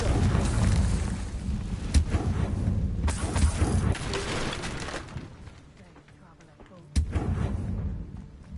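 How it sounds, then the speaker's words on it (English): A Confringo spell explosion in Hogwarts Legacy, a series of heavy booming blasts with rumbling tails, loud and close, the first few seconds dense before a quieter gap and a final sharp blast. "Confringo"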